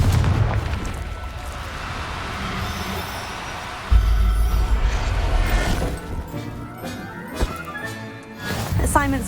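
A Confringo blasting spell in Hogwarts Legacy goes off as a deep, booming explosion, followed by further crashes and pops amid game combat noise, with voices speaking around it.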